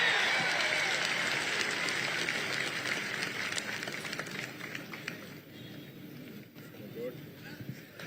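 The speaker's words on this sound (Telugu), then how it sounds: "గట్టిగా చప్పట్లు కొట్టి అభినందించండి." Audience applause fills the hall at a political public meeting, a steady dense clapping that starts loud and slowly thins over about eight seconds, with crowd noise beneath it.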